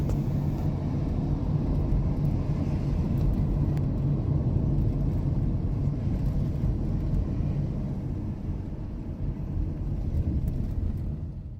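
A car driving along an open road, a steady low rumble of engine and tire noise that holds level throughout with no talking.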